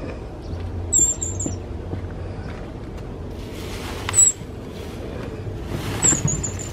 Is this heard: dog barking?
no